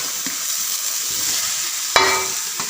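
Boiled tapioca is stirred into a hot pan, with steady sizzling throughout and a couple of sharp clinks of the spoon against the pan, close and fairly loud.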